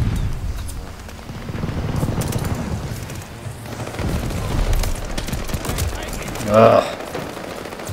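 Shotgun gunfire in a video game played with mouse and keyboard, a rough stretch of repeated blasts and mechanical clatter at close range, with a player's brief grunt among it.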